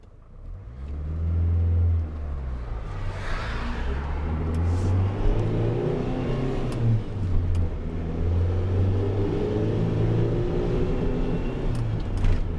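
A Renault Master 2.2 dCi van with a faulty EGR valve and an earlier power loss, its diesel engine revving hard, then holding a strong, steady drone close by.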